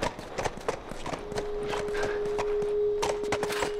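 Horse hooves clip-clop in a steady walking rhythm in The Last of Us, close and clear, with a sustained background tone running through the middle.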